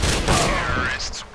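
Gunfire in a CS:GO matchmaking match, a dense burst of shots filling the short clip, with voices talking over the game.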